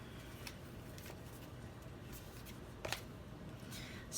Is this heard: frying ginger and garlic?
no